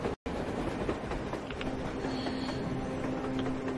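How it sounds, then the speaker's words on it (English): A train rumbles steadily past in the post-apocalyptic shooter Metro Exodus, with a continuous rolling clatter and a faint sustained tone holding throughout, loud and close. "A damn train on the surface!"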